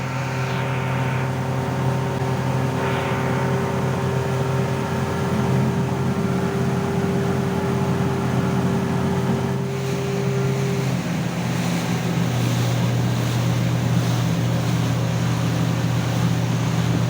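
A 115 HP motorboat speeds across a large artificial lake in Rio Grande do Sul, its engine a steady, loud drone with water rushing along the hull throughout, the pitch shifting slightly partway through.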